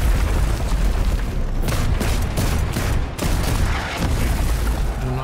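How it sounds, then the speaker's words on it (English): Ottoman cannon and gun volleys in a night battle at Targoviste against the Wallachian army, a dense, loud, continuous fusillade of booms and blasts rolling together with short rattling gaps. "With the battle hanging in the balance, Mehmed once again summons his superior firepower"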